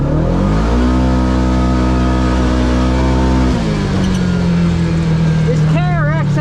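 A used Kawasaki KRX1000 UTV with 3,000 miles, in high gear and four-wheel drive, in full power mode accelerating from 0 to 30: a loud, close engine drone that holds a steady note, then drops and hesitates before building again.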